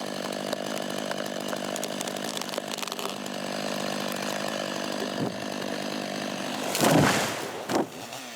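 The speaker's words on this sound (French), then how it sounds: "je fais mon trait de scie derrière pour qu'il puisse tomber à l'endroit où je veux" A chainsaw runs steadily at high revs while felling a tree in a forest, loud and close, then a crack and rustle as wood gives way near the end.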